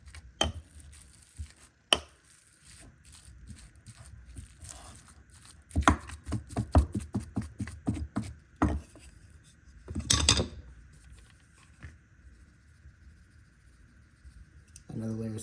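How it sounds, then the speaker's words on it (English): Seasoned ground beef is broken up into little pieces for a chipotle-style beef bowl. A utensil taps and scrapes against the meat and board in uneven clusters of sharp, close knocks, separated by quieter stretches. "I'm gonna break this up into little pieces"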